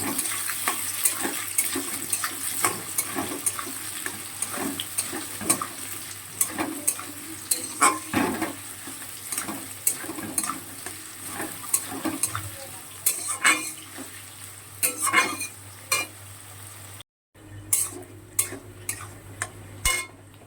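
Onion and garlic frying in a pan for a soybean vegetable dish, soft sizzling beneath frequent clinks and scrapes of a utensil stirring against the metal, close and fairly quiet.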